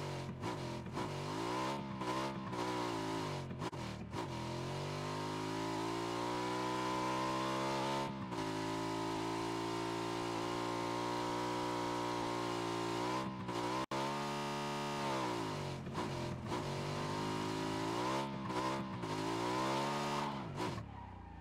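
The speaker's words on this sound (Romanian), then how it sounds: "Motocicletă cu ataș." A motorcycle with a sidecar in the video game PUBG, its engine revving in repeated rising and falling sweeps with brief cut-offs between gear changes, loud and close throughout with no talk.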